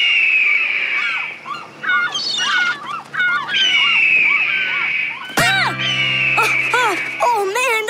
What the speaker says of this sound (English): Audrey, play the hawk sound through the polo boat speakers. As loud as you can